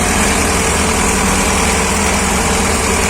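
T-40AM wheeled tractor idling during spring field tillage, its diesel engine running close and loud with a steady, low, rumbling throb and vibration, no voices over it.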